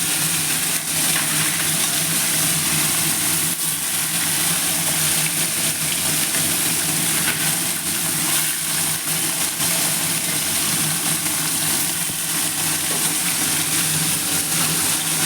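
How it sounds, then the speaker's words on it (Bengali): Amodi fish fry in hot oil, giving a loud, dense, unbroken sizzle and crackle that holds steady close by for the whole stretch, with no talk over it. "আমুদি মাছের জন্য তেল বসিয়েছিলাম, তেল গরম হয়ে গেছে, এবার মাছগুলো দিয়ে দেবো"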